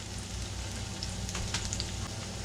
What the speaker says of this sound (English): those are sizzling nicely